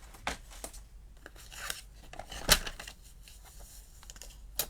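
Scissors cut a piece of paper down to size: several crisp snips and a sharp close crunch, quiet and without talk.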